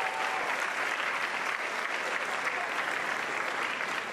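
An audience at an awards ceremony applauds steadily, with dense, even clapping that stays loud for the whole stretch and no pauses.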